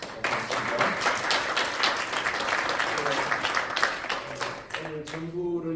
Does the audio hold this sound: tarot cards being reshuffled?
no